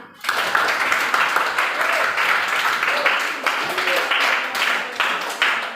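Classmates in a school lesson give a student group a continuous round of applause, loud and dense throughout, with a few voices mixed in.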